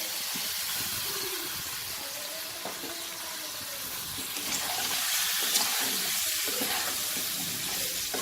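Rice toasting in a pan as pre-fried potatoes and pointed gourd are tipped in for a Bengali chal potol dish, giving a steady broadband sizzle with soft stirring scrapes that grows a little louder partway through, with no talk.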